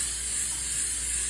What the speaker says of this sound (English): I'm going to spray it with my trusty spray.